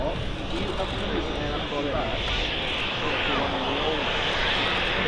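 Continuous broadband roar of an Estonian-registered jet airliner with a pointy nose landing at Manchester Airport from Zurich, steady and fairly close, with people talking over it.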